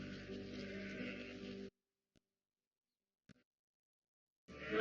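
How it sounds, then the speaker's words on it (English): Sheep on a farm bleat in a wavering, sustained call lasting over a second, then after near silence with a couple of tiny clicks another bleat starts, close and clear. "Very well behaved sheep"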